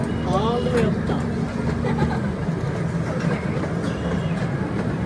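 A zoo train ride rolls along in South Bend, Indiana, with a steady rumbling clatter of the cars that fills the whole stretch, and a few faint voices and squeaks above it.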